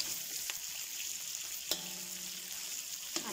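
Potatoes fry in hot oil in a pan, a steady soft sizzle with occasional sharp crackles and pops.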